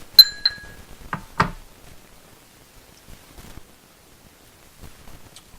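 Glasses clinking together in a toast, a few bright chiming taps close by near the start, followed by quieter faint rustling and near silence.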